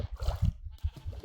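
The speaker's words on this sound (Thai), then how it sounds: "นี่เหมือนนี่เสียงซอมบี้" A short, nasal bleating groan repeats in low bursts, close and fairly loud, with a brief gap of silence midway: a baby zombie in Minecraft 1.10.2.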